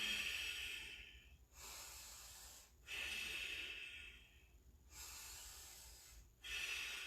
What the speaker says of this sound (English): Back to that Ujjayi breath.